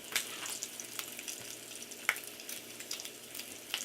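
Bacon fries in a pan for a BLT sandwich, a steady close sizzle peppered with frequent small pops and crackles throughout, no voices.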